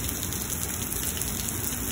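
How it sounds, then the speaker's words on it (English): Heavy rain pours down steadily during a severe thunderstorm in Lubbock, Texas, a dense, even roar of drops on surfaces filling every moment with no pauses. "This rain, it's coming down pretty heavy"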